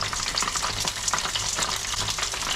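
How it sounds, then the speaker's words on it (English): A bass fillet frying skin side down in a hot pan, a loud, dense, continuous sizzle with fine crackling spread evenly across the moment, heard close up and alone. "put a bit of pressure on it when you put it into the hot pan, and then let it just do its thing"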